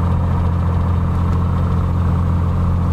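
A steady, loud engine drone holds at constant speed during an ignition system RPM drop check, with a deep low hum and even mid-range roar throughout and no talk.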